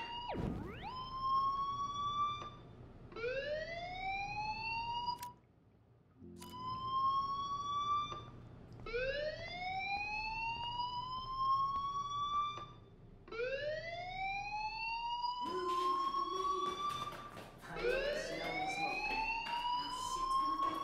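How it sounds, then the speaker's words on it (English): An electronic fire alarm in a video game wails in repeated rising sweeps, steady and loud, cycling every couple of seconds with brief gaps. "do you hear that fire alarm? That means you should be outside."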